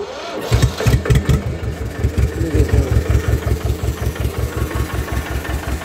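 An antique HMT 2522 tractor engine cranks and catches, then settles into a loud, steady, thumping idle with an even beat that runs to the end, with faint talk over it.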